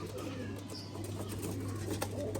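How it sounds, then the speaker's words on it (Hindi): Faqeer Gul pigeons coo softly, with a faint, steady low hum running underneath and no talking. "ये फकीर गुल कबूतर है दोस्तों"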